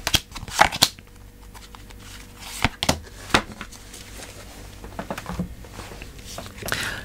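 Tarot cards are shuffled and handled near the microphone, with sharp riffling bursts and slaps at irregular intervals and softer card rustles between them.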